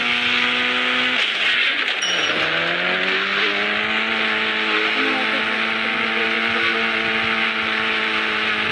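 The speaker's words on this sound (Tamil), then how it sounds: "இது ஒரு ஃபுல் ஸ்பீட் ஆகும். ஒரு லாம்போர்கினி வந்து தெரியும்." A Lamborghini races past at full speed, its engine a loud sustained high whine with a sharp pitch sweep as it passes, then holding steady at high revs.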